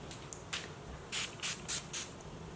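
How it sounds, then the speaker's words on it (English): Four quick bursts of a fine pump-mist bottle holding rose water, aloe and witch hazel facial toner, sprayed onto a neck, each short hiss close and crisp over a quiet room. "I'm gonna spray it on my neck."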